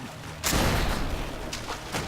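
A loud burst of gunfire in the video game Risen 3: Titan Lords, a rapid volley with a couple of fainter shots trailing after.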